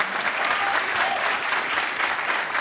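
Sustained studio audience applause on a late-night talk show, dense and steady from start to finish with no voices on top.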